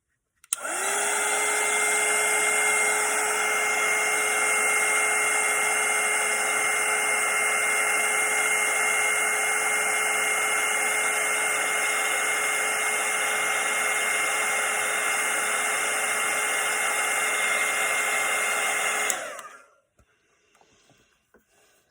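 A hair dryer blows steadily and loudly for about nineteen seconds, drying a watercolour painting of a sky, then switches off and winds down into quiet.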